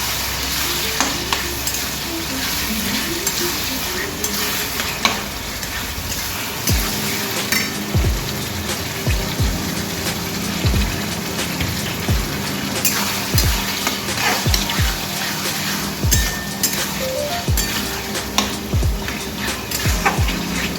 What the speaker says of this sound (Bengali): এবার দেবো আমি টমেটো সসটা। দেখো বন্ধু, দিয়ে দিচ্ছি, নাড়াচাড়া করছি।